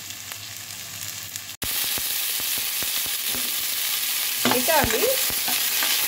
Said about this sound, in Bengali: এই বাটার আর মশলার যে তেলটা রয়েছে তার মধ্যে 2 মিনিটের মতো একটু ফ্রাই করে দেব।